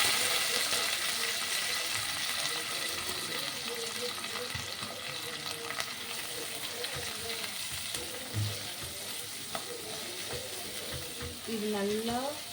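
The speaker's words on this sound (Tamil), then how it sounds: "இப்போ நான் ஆனியனும் கருவேப்பிலையும் ஆட் பண்ணிக்கிறேன்." Onions and curry leaves fry in a hot pan with a steady close sizzle and crackle, interrupted now and then by stirring scrapes, and no voices.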